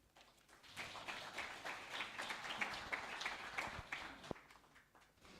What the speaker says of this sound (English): Once again, a round of applause as she makes her way to the table.